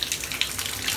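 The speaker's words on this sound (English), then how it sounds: "So it's shower time at Xander's house" An old shower tap in a house is turned on, and water runs in a steady, close hiss with small splashy fluctuations, heard alone.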